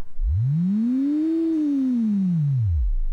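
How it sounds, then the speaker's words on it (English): A pure tone from a Bastl Kastle synthesizer's secondary oscillator glides upward in pitch, holds briefly, then sweeps back down, steady and alone with no other sounds. "we can switch over to the secondary oscillator here"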